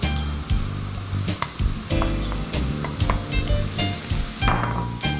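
Finely chopped button mushrooms hit a pan of salted, softened onion over low heat and fry with a steady, close sizzle, broken by the clinks and scrapes of stirring; no voices.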